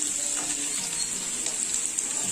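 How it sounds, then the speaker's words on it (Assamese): Onions fry in a pan for a cheese-filled snack, giving a continuous faint sizzle with light crackling and occasional small clicks, heard up close with no one speaking. "এইখিনি অকণমান টাইম ফ্ৰাই কৰিম।"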